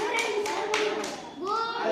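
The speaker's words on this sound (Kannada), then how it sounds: "ಚಪ್ಪಾಳೆ ಹೊಡ್ರಿ ಅವಂಗ" Children in a classroom clap in a few quick, sharp bursts, with kids' voices mixed in.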